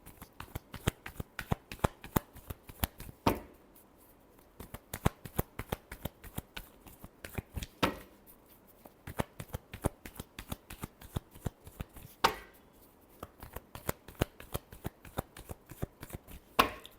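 A deck of cards is shuffled for a reading, with repeated crisp riffles and taps in an uneven rhythm, close and clear, set apart by brief pauses.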